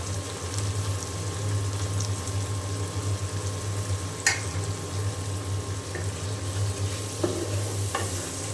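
Spice paste frying in oil in a pan, a steady bubbling sizzle with stirring throughout, punctuated by a few brief metallic scrapes and taps.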